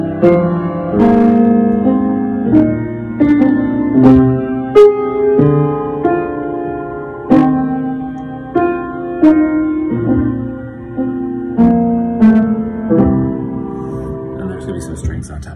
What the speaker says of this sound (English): So the cello line against the bass line kind of sounds like this.